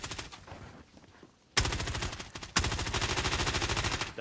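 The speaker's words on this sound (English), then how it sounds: "I'm getting shot from south." Rapid automatic gunfire in Call of Duty Warzone, loud and close. A faint, sparse stretch gives way to two sudden bursts of sustained fire, each running steadily as a dense string of shots.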